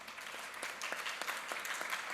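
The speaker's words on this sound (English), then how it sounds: "I'm asking you for a big applause for our wonderful speakers." A conference audience gives the speakers steady, moderately distant applause, a dense patter of many hands clapping evenly throughout without a break.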